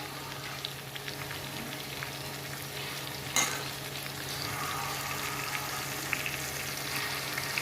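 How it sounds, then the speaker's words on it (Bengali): Spice-marinated chicken tandoori pieces fry in a pan over raised heat, giving a continuous even sizzle with one brief clatter partway through. "ভাজা হতে থাকুক একটু পর ঢাকা দিয়ে দেব"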